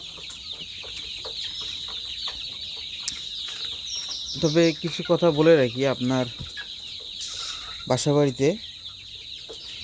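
Sonali chickens about 45 days old on a Bangladeshi poultry farm cluck and call in bursts over a steady background hum, fairly close, while someone speaks.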